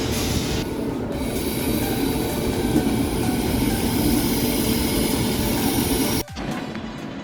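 The Grand Trunk Express rumbles steadily along the rails near Nagpur Junction with a loud, continuous roar and faint wheel squeal, then the sound abruptly changes near the end on entering a tunnel.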